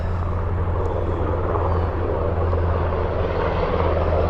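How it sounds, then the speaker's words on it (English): Steady low rotor and engine drone of a Nighthawk helicopter passing overhead during a memorial event, loud and continuous throughout with no voices. "And we got a helicopter coming."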